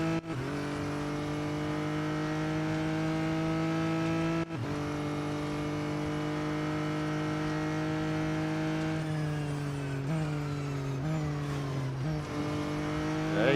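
Racing car engine in Real Racing 3 roars steadily throughout, a sustained harmonic drone that dips briefly as the driver brakes and shifts pitch several times through corners, with no talking over it.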